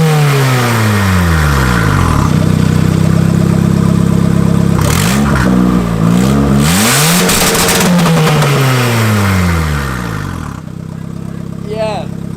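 Honda Civic engine fitted with an eBay intercooler starts and revs hard, pitch sweeping up and down through several loud blips before settling toward idle, with voices talking over it.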